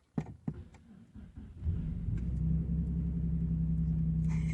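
A project car's engine cranks and catches after a few clicks and knocks, then settles into a steady, close, rumbling idle that holds to the end.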